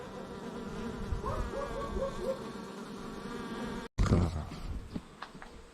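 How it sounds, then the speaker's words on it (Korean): Native Korean honeybees swarm at a hive in a house ceiling, a dense, continuous buzzing hum, close and steady, with a brief cut and some rustling near the end. "벌이 엄청납니다."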